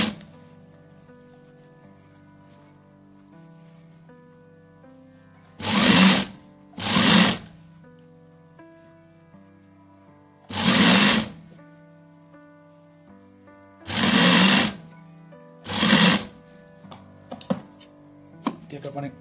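A sewing machine stitches the edge of a langot in several loud bursts of rapid mechanical clatter separated by pauses, with faint background tones between runs.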